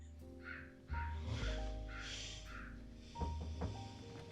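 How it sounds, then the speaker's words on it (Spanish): A crow caws several times during a home visit scene in The Sopranos, short hoarse calls repeating over a low hum and faint room sounds, fairly quiet overall. "se escucha el graznido de un ave"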